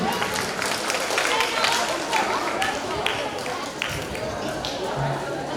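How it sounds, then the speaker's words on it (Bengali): An audience applauding to welcome a speaker at a cultural stage event in Taki, a dense, sustained wash of clapping lasting throughout at an even level, with a faint crowd murmur underneath. "একটা জোরে হাততালি চেয়ে নেব স্যারের জন্য।"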